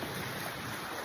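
A strong gale blows across a river, a dense, steady roar of wind buffeting the microphone, loud and unbroken with no speech.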